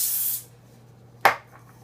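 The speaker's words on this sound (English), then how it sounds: "So I'm just going to do a quick spray." A brief hissing burst of avocado oil cooking spray at the start, followed by a quiet pause and a single soft clunk.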